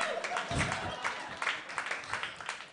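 A comedy club audience claps and cheers in short uneven bursts at a political stand-up set, with crowd noise and shouting mixed through the applause.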